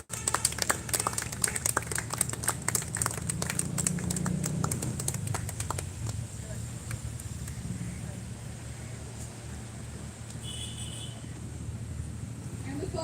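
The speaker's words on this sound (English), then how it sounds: "Please give a big round of applause." Applause from an audience at a Konkan fruit festival prize announcement, a burst of clapping that starts sharply then settles into a steady, moderately distant patter for over ten seconds, with a voice briefly audible beneath.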